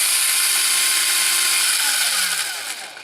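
A modified cordless drill running on laptop lithium batteries whirs loudly and steadily at close range, then its pitch drops as it winds down at the end.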